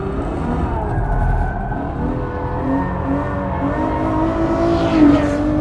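A Ferrari engine pulls hard in fourth gear at close to a hundred miles an hour through a left-hand bend, its loud, steady roar climbing in pitch with faint tire noise, heard from inside the car without talking.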